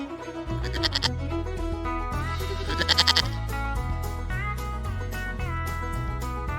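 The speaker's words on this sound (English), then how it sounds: "Goat." A goat bleats in quavering calls, two loud wavering bursts heard clearly over a steady upbeat music backing.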